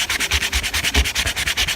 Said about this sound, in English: So I'm just sanding an area